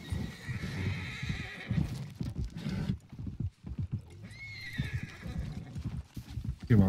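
Horse hooves clip-clop at a gallop and the horse neighs sharply in Red Dead Online, with game sounds and players' voices talking over the action throughout.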